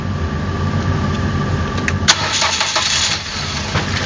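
A 2007 Ford Focus with a 2-litre engine that starts with difficulty and will not rev up cranks and settles into a steady, loud idle with a dense low rumble, heard close up without talking.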